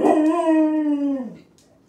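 A dog lets out a single loud, close howl with a rising yip at the start, holding a long tonal wail before it drops and fades out.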